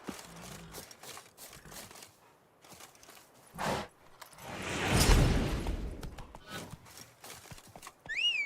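The horse Roach in a video game trots with clip-clop hooves and loud neighs, hoofbeats pattering in bursts between two whinnies, the second at the very end, with a noisy rush in the middle.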